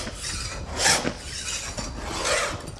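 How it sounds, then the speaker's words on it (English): A veneer saw held flat against a wooden table leg trims the veneer edge, producing close, steady rasping strokes with two stronger scraping passes. "I'm using the leg as my straight edge. So I'm keeping that veneer saw flat against it."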